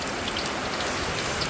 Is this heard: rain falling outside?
yes